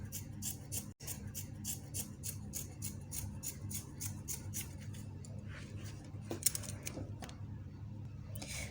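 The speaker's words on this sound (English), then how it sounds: "so we'll be cutting out" Scissors snipping away excess fabric from a dress being sewn, a steady run of close, crisp cuts repeating at an even rhythm, with a fainter shuffle of cloth toward the end.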